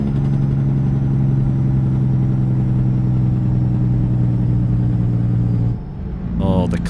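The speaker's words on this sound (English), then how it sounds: "the classic cat Jake brake that just sounds so good" Deep, steady droning engine braking from a Cat engine in a Kenworth W900 truck in the driving game American Truck Simulator, loud and continuous for nearly six seconds before dropping off into a quieter engine tone.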